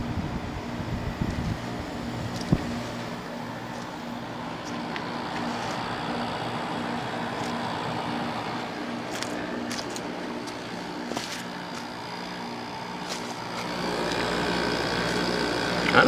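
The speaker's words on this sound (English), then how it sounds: "The compressor's on." A 1995 Frigidaire Signature 2000 5450 BTU window air conditioner runs with its compressor on, a steady low hum with a constant airy whoosh and a few faint clicks, close and unbroken.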